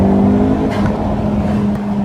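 Turbocharged 10th-gen Honda Civic with a Cobra cold air intake accelerating, a loud, close, steady engine drone with a throaty intake roar and no talk.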